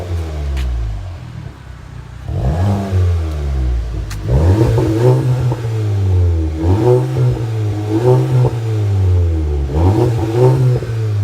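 Nissan GT-R engine revving hard in repeated surges, deep throaty pulls rising and falling about every two seconds, loud and close with no talking.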